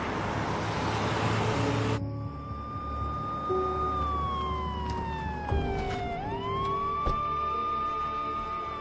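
A police patrol car siren wails in a sweeping tone, starting abruptly and dipping low before rising again, loud and close over background road noise.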